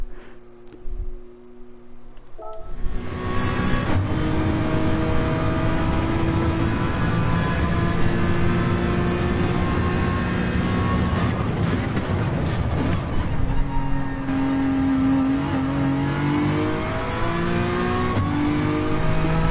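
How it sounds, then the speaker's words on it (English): A Honda NSX engine in the racing game Gran Turismo 7 revs steadily for most of the stretch, a loud, sustained tone rising and falling with throttle and gear changes after a short quiet start. "I'm in the NSX, Scott."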